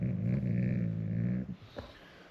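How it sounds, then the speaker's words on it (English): A dog's low, steady rumbling growl close by, about a second and a half long, followed by a brief quiet huff. "I'll never tell her to stop barking all the way. Just do it quietly. Do the quiet rumble, not the loud one."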